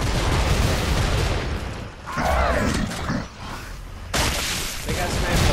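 A large video game battle roars with dense, continuous gunfire and shots layered over one another, while voices shout and talk underneath.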